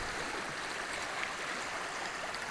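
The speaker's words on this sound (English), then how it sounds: "Very nice creek." A creek runs high after days of rain on the Appalachian Trail in Virginia, a steady broadband rush of flowing water close by with no voices.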